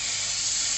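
A brief, steady hiss while Baku halva is being cooked, as hot liquid is poured into the mixture; a faint, even sizzle lasting under a second with no voices.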